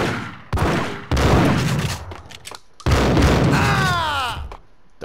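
Gunfire in the Max Payne video game, with several loud bursts of shots and impacts separated by short pauses, ending in a ringing, whistling ricochet-like tail.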